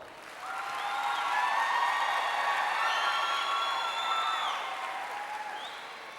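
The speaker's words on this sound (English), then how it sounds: "Please give them a round of applause." Sustained audience applause at a high school graduation ceremony, a broad wash of clapping that swells, holds steady for several seconds, then tapers slightly, with faint tonal whistles or cheers over the crowd.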